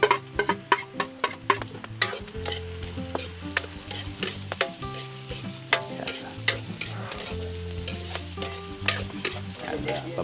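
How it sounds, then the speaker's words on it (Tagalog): Onion, garlic and ginger sautéed in a pan for a farm-style seafood medley, with steady loud sizzling and frequent stirring scrapes and clanks throughout, no talk. "Pababango-banguhin lang po natin yan, ating panggisa. Luto-lutuin natin."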